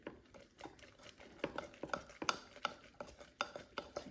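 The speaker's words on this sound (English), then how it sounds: "Give it a really good stir, scrape the sides." A sourdough flour mixture being stirred in a bowl, with a spoon scraping the bowl sides in a run of sharp, close clinks and scrapes.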